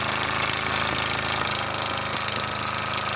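A KMV overhead flywheel engine runs steadily, a loud, rapid mechanical knocking and chuffing rhythm that fills the whole moment without pause.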